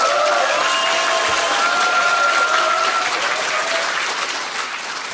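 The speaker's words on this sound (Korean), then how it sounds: "다음 분도 똑같이 크게 박수 쳐주시면 좋겠습니다" Loud, dense clapping from a large audience at a Korean political event, sustained throughout and tapering slightly toward the end.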